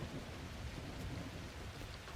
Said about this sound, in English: Well, it is raining.